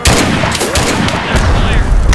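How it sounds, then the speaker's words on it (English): Dense, continuous gunfire lays down cover fire in the video game Mud and Blood, a loud, rapid rattle of shots and impacts that runs without pause throughout, with a voice briefly heard under it. "Let me lay down some cover fire."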